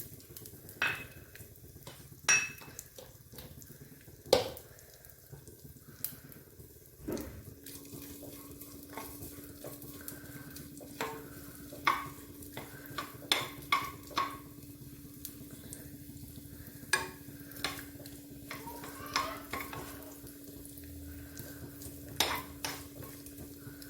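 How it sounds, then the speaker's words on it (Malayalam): Finely chopped coconut pieces fry in ghee for ada pradhaman payasam, a soft continuous sizzle broken by frequent sharp clicks and clinks of a spoon in the pan, with a faint steady hum joining partway through. "അല്പം നെയ്യ് ഒഴിച്ചിട്ട് ചെറുതായിട്ട് അരിഞ്ഞ തേങ്ങാക്കൊത്ത് ഇതിലേക്ക് ഇട്ട് കൊടുക്കാം"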